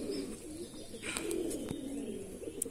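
Andhra Madrasi pigeons coo in low, rolling bursts close by, with a few sharp clicks and light chirps scattered through; no one speaks.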